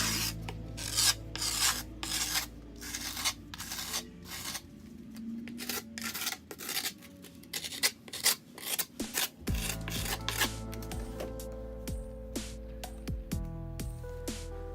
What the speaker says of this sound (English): Now because this board was already used, you're going to see a bunch of indentations in the grip while I'm scraping.